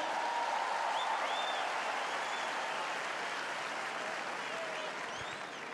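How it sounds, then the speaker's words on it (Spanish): Audience applause for women at the Viña del Mar festival, a broad, sustained wash of clapping from a large crowd heard at a distance, fairly faint and even. "Y un aplauso para las mujeres."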